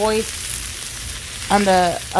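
Tomatoes and vegetables sizzle in a hot pan for Mexican steak sandwiches with a steady, bright hiss; short bits of a voice are heard at the start and near the end.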